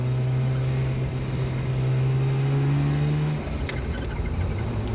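A Ferrari F355 Spider is driven with a raspy engine and exhaust note that sounds slightly off, a loud sustained drone that rises gently, then eases and dips near the end, with no speech.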